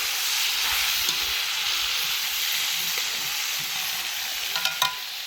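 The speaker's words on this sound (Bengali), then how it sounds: "অল্প করে ভালো মতো ভাজতে হবে একবার।" Food fries in a pan with a loud, even sizzling hiss throughout, broken by a few brief stirring clicks near the end.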